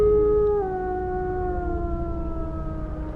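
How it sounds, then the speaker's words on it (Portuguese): A long, wavering howl, loud at first and then sliding down and fading slightly, held as one sustained tonal cry with no talking over it. "Aquela coisa estrebuchou no chão e começou a gritar e uivar"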